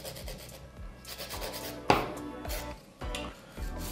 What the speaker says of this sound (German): Dann nehme ich mir die Form vor, damit die nochmal perfekt nachgefeilt ist.